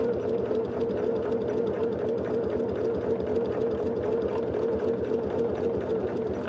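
A sewing machine with a walking foot runs steadily as it stitches along existing seams of a sweatshirt, a continuous close hum with even mechanical texture and no talk.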